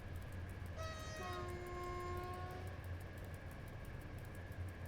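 A train locomotive in the SimRail railway simulator, Łódź North Region between Skierniewice and Łódź Kaliska, sounds a sustained multi-tone horn over a steady low engine rumble, the chord holding for over a second before fading back into the drone.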